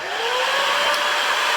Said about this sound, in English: Never touch the metal part of the heat gun, and always test it.